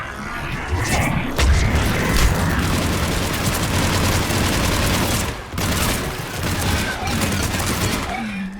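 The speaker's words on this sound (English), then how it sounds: "We're taking heavy fire from the second story." Heavy gunfire in the video game Mass Effect 3: a dense, continuous fusillade of shots and booms that rolls on for the whole stretch, with only a brief lull near the middle and a few fainter gaps.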